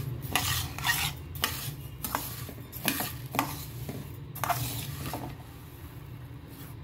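Rice grains being dry-roasted and stirred in a pan for chakli flour, repeated scraping and rustling strokes in an uneven rhythm over a low background hum, close and moderately quiet.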